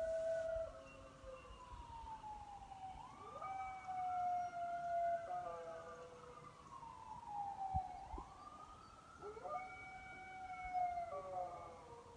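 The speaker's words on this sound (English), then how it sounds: "Ambulances and sirens" Several sirens wail in overlapping rising and falling sweeps, moderately distant, repeating over and over without any speech.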